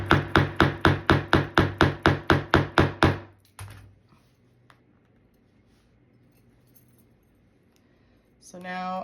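A hammer strikes a metal grommet into a corset with about fourteen quick, evenly spaced sharp blows, then quiet with faint handling noises before a brief louder sound at the end.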